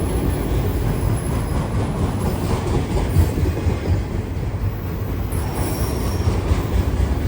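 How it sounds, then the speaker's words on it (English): A long freight train carrying stacked automobile cars rolls past a railroad crossing, loud and close with continuous wheel rumble, clickety-clack and squealing wheels throughout, no talk. "The front of the train just now went past the defect detector."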